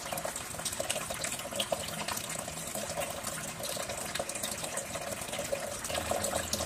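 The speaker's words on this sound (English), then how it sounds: "Now thoroughly wash the hands using firm rubbing and circular movements to wash the palm, back," Tap water runs steadily into a sink during medical hand washing with firm rubbing, a constant close splashing gush without pause.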